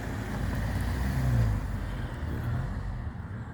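A car reversing outside a police headquarters, a low, steady engine rumble heard from a short distance with a slight swell in the middle, no talking.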